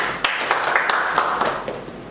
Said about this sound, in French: Merci de nous applaudir.